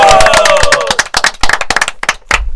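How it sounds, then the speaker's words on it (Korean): A small group in a broadcast studio claps loudly and briskly, sharp irregular hand claps close to the mic, with a brief tonal vocal sound early on and a pause before a final few claps. "박수."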